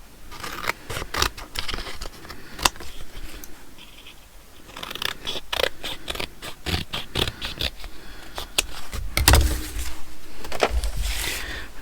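Scissors snip through paper cut-outs for handmade ephemera, a run of quick, close, crisp cuts in uneven rhythm with short pauses, loud and alone without talk.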